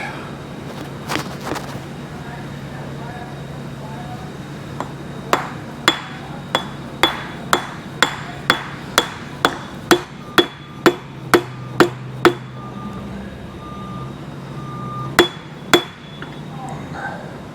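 Sharp metallic hammer blows drive a heated timing gear onto a Kubota V2203 diesel engine through an installer tool, a steady series of about a dozen close, ringing strikes followed by two more after a pause, with faint shop background.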